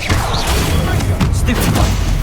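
In the video game Hogwarts Legacy, the Incendio fire spell is cast amid loud, dense combat: continuous booming rumble and crashing bursts layered over one another, close and heavy throughout.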